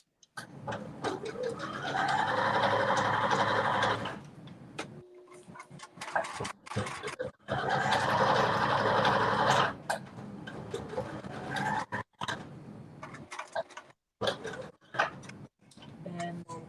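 A sewing machine backstitching a crossbody phone bag whirs in two sustained runs of rapid stitching, pausing briefly between them, followed by scattered clicks and handling noises.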